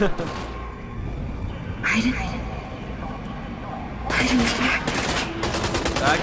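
Bursts of automatic gunfire from a firefight in Beyond: Two Souls crackle in two or three rapid volleys over background rumble, with a voice talking over parts of it.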